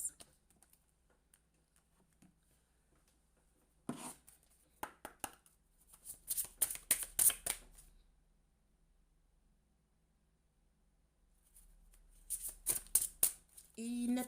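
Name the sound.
shuffling and changing cards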